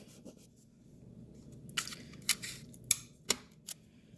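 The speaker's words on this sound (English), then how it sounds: "I'm going to take 1 of my halves and tape it in." Adhesive tape pulled and pressed onto paper halves to join them into circles, several sharp tearing and crinkling bursts spaced about half a second apart after a quiet rustling start.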